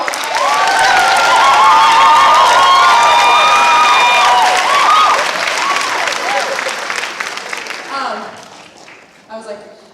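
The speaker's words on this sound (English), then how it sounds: "Can we just give an extra applause and kudos to the souls that had to be" A school chorus audience breaks into loud applause with cheering and children's shouts and whoops for the front-row singers, tapering off after about eight seconds into scattered voices.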